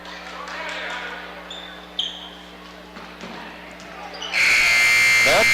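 A loud, sustained electronic buzzer sounds at a high school girls basketball game to end the first quarter, cutting in abruptly after scattered ball bounces and crowd noise.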